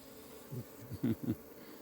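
A few short, soft bursts of bee buzzing pass close by in quiet surroundings, each lasting a fraction of a second.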